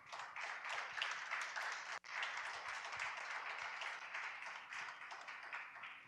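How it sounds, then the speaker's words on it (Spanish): A church congregation applauds together in a steady, sustained wash of clapping, fairly distant and even, with a brief break before it resumes. "¿Cuántos dan un aplauso al Señor?"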